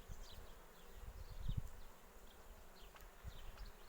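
Honeybees hum and buzz softly in a dense, continuous drone inside a hive of two combined colonies, with occasional closer buzzing passes.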